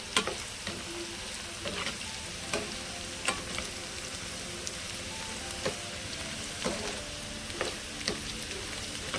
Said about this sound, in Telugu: ఒక బ్యాచ్ అయిపోయినాక ఇంకొక బ్యాచ్ అలా ఫ్రై చేసుకుందాం.